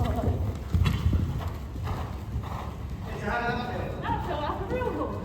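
Horse hooves clip-clopping in a steady canter during a jumping lesson, close and fairly loud, with a brief whinny-like sound and some talk layered over the strides.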